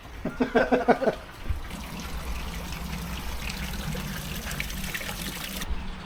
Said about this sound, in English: So we've filled that pool now. It's filled up to there.